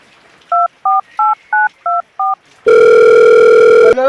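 A telephone keypad is dialed in six short, evenly spaced tones, then a steady loud ringback or dial tone takes over and holds for about a second before cutting off.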